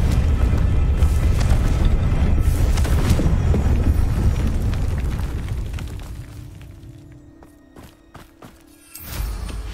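A spell blast from a Harry Potter video game: a loud, booming explosion with a long rumbling decay that fades over several seconds, followed by a few faint clicks and a small final thump.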